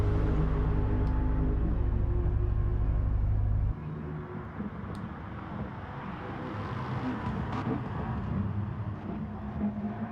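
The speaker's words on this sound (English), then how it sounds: "That's a really nice idling sound." Racing car engine idling in GT Sport, a steady low drone for about the first four seconds that then cuts away into softer, broadband rushing noise.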